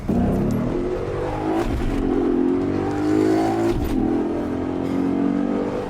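A car engine, a vehicle with double overdrive, runs and revs up steadily in two rising pulls, loud and close, with no talking over it.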